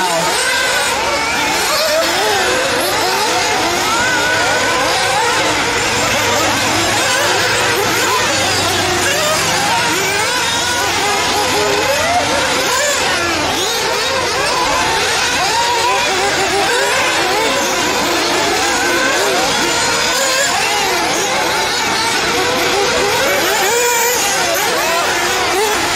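Nitro RC buggies with Spec tires race in a B Main event in Idaho, their small engines whining and revving in constant overlapping waves, loud and continuous, while a commentator talks over the action.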